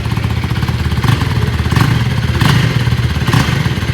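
A 2024 KTM Duke 250 motorcycle engine runs close and loud with a deep, bassy throb, rising in a few short revs over a steady idle.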